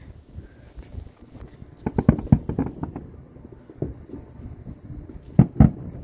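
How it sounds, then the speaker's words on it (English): Fireworks bursting at a lakeside Fourth of July gathering: a quick cluster of sharp pops and crackles midway, then a second pair of bangs near the end, over low crowd and wind rumble. "Checking out the fireworks."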